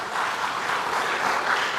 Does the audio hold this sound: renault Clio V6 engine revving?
no